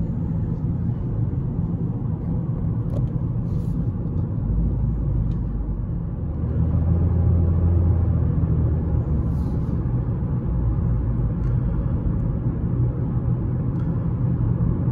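Toyota Corolla XEi 2.0 cruising on a highway, heard from inside as a steady low road and engine rumble with a slight swell partway through, no talking.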